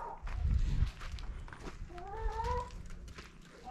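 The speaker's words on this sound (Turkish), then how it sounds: "Burada da kediler var." A cat meows in a rural village in Beyağaç, Denizli, with a rising two-part call standing out amid footstep-like shuffling and soft background noise.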